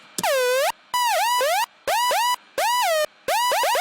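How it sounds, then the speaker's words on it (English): A Moombahton synth lead built in NI Massive, played dry without effects, repeats loud, bright, buzzy stabs with swooping pitch bends. The stabs come in a syncopated rhythm and are broken by short silences. "I'm going to be showing you how I did my Moombahton lead noise"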